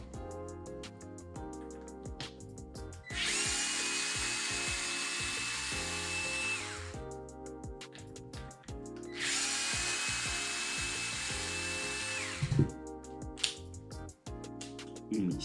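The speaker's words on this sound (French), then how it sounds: "On va retirer nos deux vis ici." A power driver backs out two screws on a Traxxas TRX4 Sport RC truck, whining in two separate runs of several seconds each, with quiet clicks and handling noises between them.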